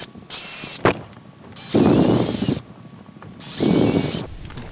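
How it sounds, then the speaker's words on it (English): A handheld power drill bores pilot holes into a wooden wall beam, giving two loud grinding runs of about a second each between whirring motor spins and a sharp click, close by and with no voices. "now after we have the pilot holes drilled"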